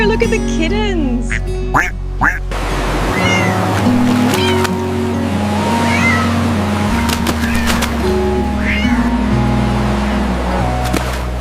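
Kittens meowing in a farm setting during a rice harvest, several short high calls scattered across the clip over music and background noise, with people talking throughout.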